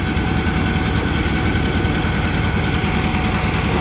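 A 1957 John Deere 820 tractor roars steadily at a tractor pull, its loud, continuous engine drone holding without a break from start to finish and no voices in the clip.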